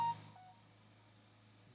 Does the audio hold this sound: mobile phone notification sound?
yes